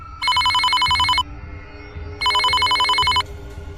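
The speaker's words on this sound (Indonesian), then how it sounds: "tiba-tiba telepon berdering" A telephone bell rings twice in long electronic bursts, loud and close, with a pause between rings and faint rhythmic sounds underneath.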